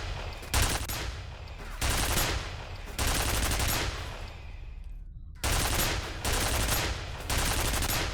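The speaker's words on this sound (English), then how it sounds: "Are you gonna stop shooting? Turret, please." An automated turret firing in the video game F.E.A.R., with loud, rapid automatic bursts repeating in long stretches separated by brief gaps.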